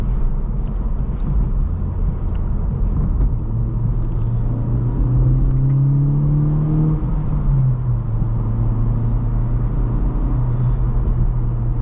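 A 2024 Honda Civic Type R with a 6-speed manual driving, a loud steady engine drone inside the cabin that climbs in pitch, drops on a rev-matched downshift and settles, under road rumble, no talk.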